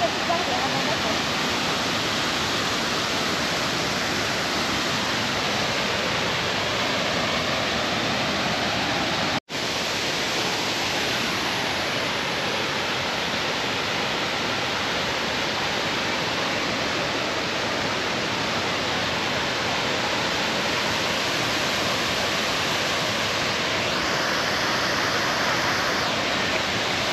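A waterfall at a cascade below a steep slope roars as a steady, dense wash of water noise for the whole stretch, broken only by a momentary dropout partway through.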